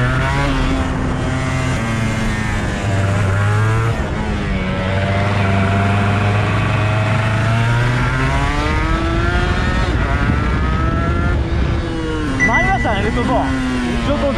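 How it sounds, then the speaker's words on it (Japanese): A Honda NSR250R MC28 two-stroke motorcycle screams at full throttle on a race circuit, loud and close with rising and falling engine pitch through gear changes and heavy wind roar, while a rider talks over it. "ここでアクセル全開してるけど、こんな感じなんだ。"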